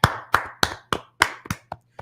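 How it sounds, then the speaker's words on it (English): Eight separate, loud hand claps from a church congregation at a Tuesday brotherhood class, spaced unevenly about a quarter second apart and fading slightly toward the end, with a low hum underneath. "let's clap it up"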